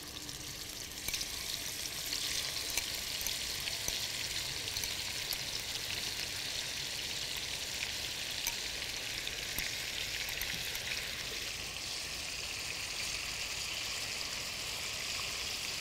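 Shrimp fry in hot oil in a pan, giving a steady, fairly quiet crackling sizzle that runs unbroken throughout with no voices.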